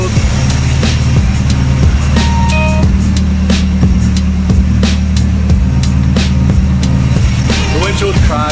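Nissan 240SX with an SR20DET turbo engine, running close and loud with a steady low drone and repeated rhythmic pulses of rising and falling revs throughout.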